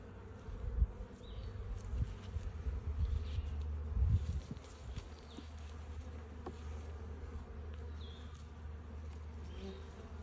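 Honeybees buzz steadily around an opened hive during a spring inspection, a dense continuous drone close by with a few louder swells as bees fly near, no talking.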